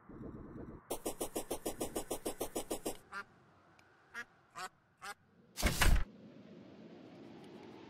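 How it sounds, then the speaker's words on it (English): Ducks in the video game Terraria quack in a quick, even run of about a dozen calls, then a few scattered calls and a loud burst over a quiet ambient background. "I can hear ducks quacking."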